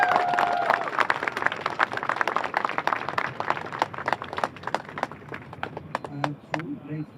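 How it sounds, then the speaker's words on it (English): An audience claps to welcome refugee speakers at an event, distinct sharp claps thinning out over several seconds as a voice begins speaking near the end. "please give the refugees a warm welcome, a big applause"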